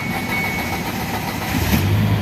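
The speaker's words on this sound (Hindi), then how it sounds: "ये हमारी गाड़ी स्टार्ट हो गई।" Engine of a 2017 Ford Figo car catching and running after repair work, a steady close mechanical hum with a slight surge of low rumble toward the end, alone without voices.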